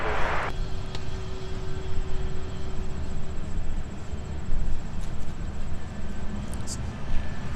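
A Delta Boeing 757-300 airliner, formerly with Northwest, taxis at Minneapolis–St. Paul airport. It gives a steady, broad engine rumble and whine that continues throughout at a moderate distance.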